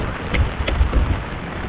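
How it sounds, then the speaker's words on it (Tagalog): Light drizzle falls over a camping site in Subic, Zambales, a soft, steady hiss of fine rain with faint low rumbling beneath and no voices. "Pero umaambon"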